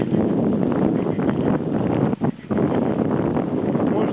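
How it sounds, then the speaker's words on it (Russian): Steady, loud wind buffeting and whooshing across the microphone during a ride along a smooth road, with a brief dip midway before the rushing resumes. "Ветер свистит в ушах"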